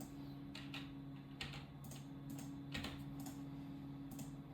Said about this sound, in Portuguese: No teclado você clica na tecla I